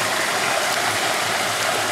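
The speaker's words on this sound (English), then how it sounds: "you kind of make the water in the pan make a crescent around the pan" Water swirling and sloshing in a gold prospecting pan during panning, a steady close rushing wash with faint gritty rattling of sediment, without speech.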